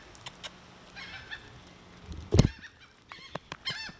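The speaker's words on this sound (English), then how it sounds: "These seagulls are going crazy." Seagulls call around a boat dock in the Florida Keys, a run of short honking squawks and cries rising and falling, with one loud close burst in the middle and more calls after it.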